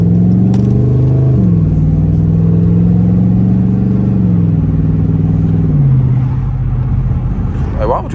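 Dodge Charger RT Daytona engine drones from inside the car on an early-morning drive, a loud steady hum whose pitch climbs and steps with gear changes over several seconds.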